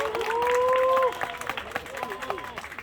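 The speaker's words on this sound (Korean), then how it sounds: "다시 한번 큰 박수 부탁드립니다." Audience applause at an evening memorial for Lee Han-yeol held in bad weather, following a choir performance: a sustained, sung or shouted tone over the clapping in the first second, then scattered, uneven claps and crowd noise that taper off.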